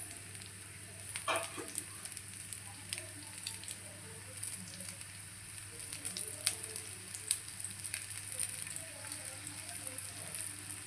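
Oil sizzles and crackles steadily in a pan while aloo tikki fry, a soft, constant hiss with scattered sharper pops and spits, close by and fairly quiet, with a low hum beneath.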